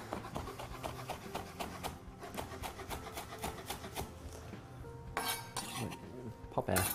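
Fresh dill is chopped with a knife on a board, a quick run of sharp rhythmic taps close by, pausing briefly before a few heavier knocks and rustles near the end.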